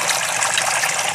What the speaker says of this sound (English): that's a good amount of water coming out from every single hole